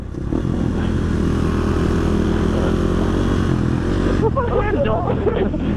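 Motorcycle engines rumble loudly and continuously on a group ride-out in Denmark, a dense, close droning roar, with voices talking over it near the end.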